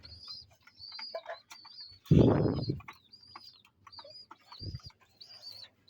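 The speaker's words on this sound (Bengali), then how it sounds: "হোমাজোরা কবুতরগুলো সুন্দর করে খাবার খাচ্ছে" Homa Jora pigeons pecking at feed while cooing softly, with thin chirps throughout and one louder rustling burst partway through, close by and without talk.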